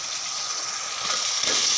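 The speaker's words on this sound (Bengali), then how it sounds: "এখন এই পর্বে আমি আলু অ্যাড করব" Potato pieces hit hot oil with frying chicken in a pan, giving a steady bright sizzle and hiss that swells louder near the end.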